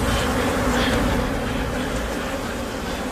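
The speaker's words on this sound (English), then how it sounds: "it turned out that it was just a huge swarm of bees" A huge swarm of honey bees makes a dense, continuous buzzing drone, loud and steady throughout with no pauses or voices.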